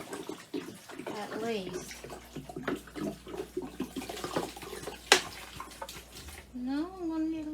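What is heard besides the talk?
water pouring into a jug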